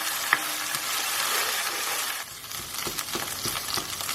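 Thai green curry paste fries in oil in a pan, a dense steady sizzle with bubbling and spitting, and a few soft stirring knocks toward the end.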